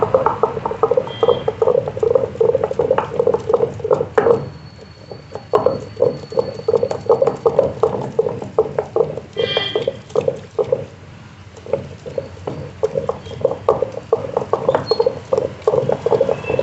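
A wet grinder churns soaked urad dal into batter, giving a continuous rumbling, slurping drone with irregular pattering bursts and a brief lull midway.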